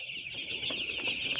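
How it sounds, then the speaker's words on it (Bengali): Chickens on a small poultry farm, about four hundred birds, heard as soft scattered clucks in the background over a steady high-pitched hiss, with no talking. "আমার এখানে 400 মুরগি আছে"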